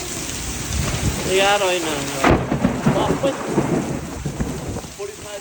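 Heavy rain and a thunderstorm during dangerous weather in Abilene, with a loud roar of rain and a rumbling thunderclap, while a voice talks over the downpour.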